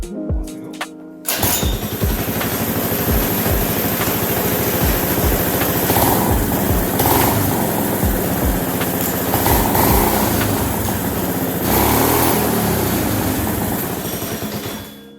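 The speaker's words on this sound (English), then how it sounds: "But now I'm gonna test fire it, see if it starts." A repaired go-kart engine is test-fired and keeps running, a loud, steady buzzing putter with rhythmic throttle pulses throughout, heard alone after a brief start.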